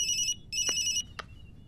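Electronic phone ringtone chirps in short repeated bursts, a bright trilling tone sounding twice then a brief blip, fairly close.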